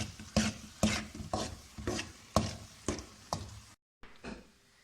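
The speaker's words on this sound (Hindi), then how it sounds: "इस तरह इसको हिलाते जाएंगे" Semolina halwa being stirred in a pan, a utensil scraping through the thick mixture in steady rhythmic strokes about every half second, close and fairly quiet, with a brief pause near the end.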